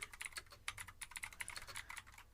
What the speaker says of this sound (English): I'm not gonna edit out any of my typing